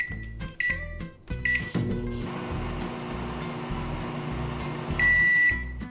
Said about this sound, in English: Just pop it in the microwave and boom, perfection in 120 seconds.